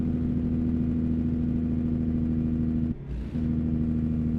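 Heavy haul truck engine in American Truck Simulator under light to medium throttle, a steady droning hum with a brief dip, close and even throughout.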